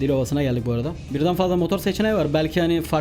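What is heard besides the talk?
No distinct noise like a dog, phone or traffic.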